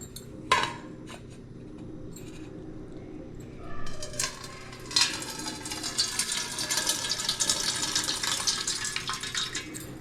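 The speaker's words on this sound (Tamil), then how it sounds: "இந்த எக்ஸ்ட்ரா இருக்கிற தண்ணி நம்ம வடித்து எடுத்துக்கலாம்" A few dish clinks, then water pours and trickles steadily as it is drained off soaked sago, running on to the end.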